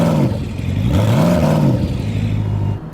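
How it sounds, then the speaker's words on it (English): A Koenigsegg Regera's 5-litre V8 revs in drive, its note rising and falling in a few smooth swells before settling to a steady hum, loud and close with no talk over it. "So I rev it in drive."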